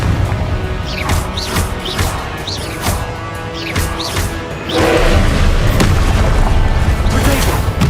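Repeated booming blasts from the Confringo blasting spell in Hogwarts Legacy, several spaced impacts followed by a sustained loud roaring burst, with spoken spell incantations between.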